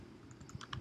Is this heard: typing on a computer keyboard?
yes